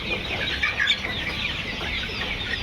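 Hy-Line layer hens on a poultry farm keep up a dense, steady chorus of clucking from a large flock, close and continuous throughout.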